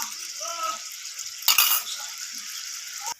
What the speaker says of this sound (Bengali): তো মশলার বাটি ধোয়া জল এখানে অ্যাড করে দিলাম।